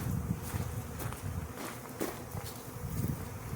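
Honeybees buzzing around a package being installed into a hive in an almond-orchard setting, a fairly quiet, continuous droning hum with small swells, heard close alongside faint rustling.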